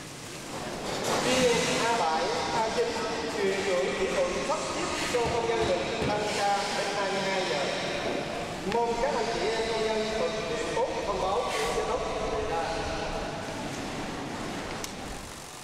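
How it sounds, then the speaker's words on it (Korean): Hundreds of industrial sewing machines run together on a busy backpack factory floor, a dense, loud, continuous mechanical whirr and rattle with overlapping tones, steady throughout with no pauses. "쉴 새 없이 거친 재봉틀 소리가 들려오는 봉제 공장."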